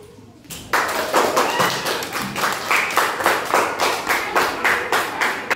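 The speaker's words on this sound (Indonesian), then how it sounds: "tepuk tangan." A classroom of children applauds in rhythmic unison after a group presents a poster, a long run of loud, evenly spaced group claps following a brief quiet start.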